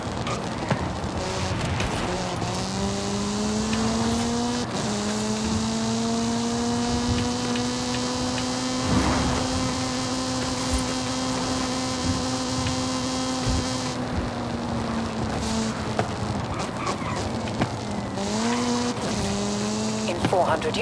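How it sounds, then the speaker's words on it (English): Engine drone of a car in Forza Horizon 5 running among traffic, steady revving harmonics that rise and fall with gear changes, with brief tire squeals and passing vehicles, continuous and close throughout. "A lot of traffic around."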